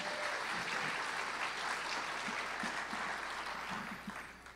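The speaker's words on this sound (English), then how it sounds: "let's give another round of applause for all the wonderful musicians we've had up here tonight" An audience at a conference in Nashville applauds the musicians, a dense wash of clapping that stays strong and then tapers off toward the end.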